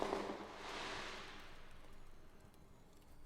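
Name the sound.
fireworks in the video game The Darkside Detective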